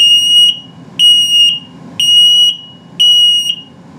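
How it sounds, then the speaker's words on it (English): An RV safety detector in a 2021 Flagstaff Super Lite 27BHWS travel trailer sounds its low battery alarm: four loud, piercing half-second beeps evenly spaced about a second apart, close by, with no talking. "it's telling you that your batteries are low. All right, so it's a low battery alarm also."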